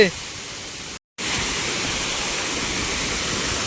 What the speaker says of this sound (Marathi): हा बघा मंडळी निसर्गरम्य धबधबा चंद्रनगर गावातील